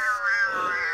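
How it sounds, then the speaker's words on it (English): Cozmo toy robot playing a cat meow sound, one short, clear electronic meow heard close and alone. "I'm gonna make Cozmo drive forward, act like a cat"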